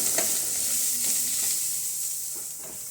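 Kashmiri chili, black pepper, coriander powder and kasuri methi are stirred in a pan over a low gas flame. A soft continuous sizzle carries scraping stir strokes, close and alone.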